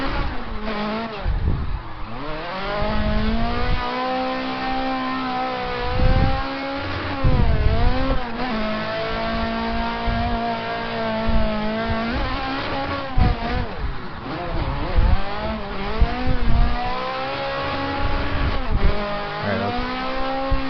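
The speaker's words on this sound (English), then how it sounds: "give it a couple of revs while you're doing that" A car engine in Assetto Corsa during handbrake drifts on the Meihan course, revving hard and rising and falling repeatedly with bursts of throttle, loud and close throughout, with faint tire noise.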